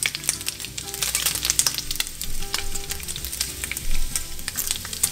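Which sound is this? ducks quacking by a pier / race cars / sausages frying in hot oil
sausages frying in hot oil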